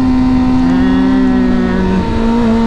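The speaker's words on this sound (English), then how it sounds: "Downshift one more time, clutch in, shift down, gas" A motorcycle engine runs loud and close with a steady droning hum during a downshift, the pitch holding nearly level with a slight dip toward the end rather than a sharp rev.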